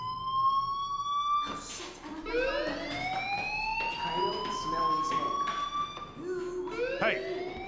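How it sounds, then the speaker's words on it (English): A fire alarm in the video game Life Is Strange rings continuously as a rising, warbling electronic tone that sweeps upward repeatedly, loud and steady throughout, with faint background murmur beneath it. "Hey, do you hear that fire alarm?"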